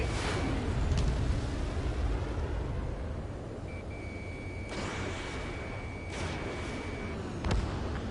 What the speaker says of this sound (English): Mage 1 launching missile.